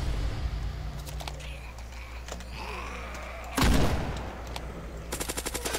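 Gunfire and explosions in a Roblox zombie game: rapid bursts of shots, one heavier boom near the middle, and a fast rattling volley toward the end over game ambience.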